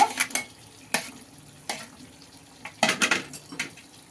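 Potatoes are stirred in a frying pan with a metal utensil: sparse scrapes and sharp clinks against the pan at irregular intervals, near, over a quiet background with faint sizzling.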